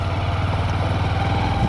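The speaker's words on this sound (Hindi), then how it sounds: "फर्स्ट गियर में हम थोड़ा सा रेव करते हैं और ये सुन सकते हैं इंजन का आवाज़ कैसा है" A Honda SP 125 E20 motorcycle's single-cylinder air-cooled engine runs close by with a steady, even low throb and a smooth, unchanging rhythm, heard on its own with no talking.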